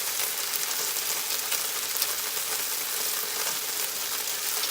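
Garlic sizzles in oil in a frying pan for chicken chow mein, a steady, close crackling hiss with no talk over it.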